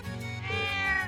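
A cat meows in the Trails of Cold Steel 3 video game, one drawn-out, clear meow that rises and holds, close and alone with no talk over it.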